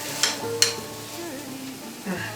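Onions frying in a pan with a soft, steady sizzle, broken by a couple of sharp scraping stirs near the start and a faint clatter near the end.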